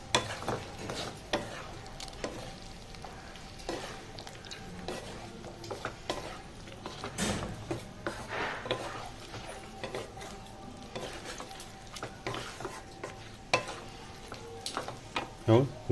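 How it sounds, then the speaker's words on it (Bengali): Pre-fried chicken is stirred in a hot frying pan, a steady sizzle with frequent clicks and scrapes of a utensil against the pan, close up and busy. "এরপর যে চিকেনটাকে আমি আগে থেকে ফ্রাই করে রেখেছিলাম সেই চিকেনটার মধ্যে দিয়ে দেবো। ভালো করে মিক্স করে নেব।"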